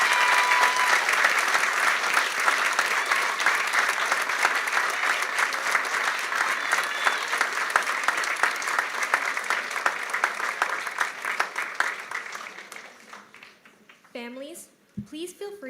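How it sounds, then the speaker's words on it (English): A school awards ceremony audience claps in a long, even round of applause that gradually thins out and fades, followed by a voice speaking at the end. "Let's give them a round of applause."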